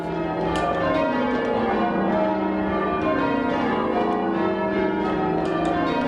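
Church bells are rung in change ringing at Christchurch, North Shields, a continuous sequence of overlapping bright strikes with ringing tones, steady and loud, with no voices.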